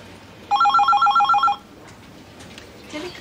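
A telephone at a hotel switchboard rings in one loud burst of rapid electronic trilling lasting about a second, followed by a quiet room with faint background noise.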